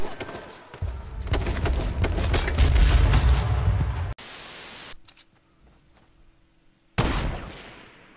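Loud video game gunfire crackles in a dense, noisy burst for several seconds, then cuts abruptly to a harsh static block, near silence, and another sudden blast of noise.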